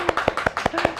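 A brief burst of clapping in a Korean Hypertension Society public Q&A session, thanking two professors: about five sharp, evenly spaced claps within a second, fairly close and with no voices over them.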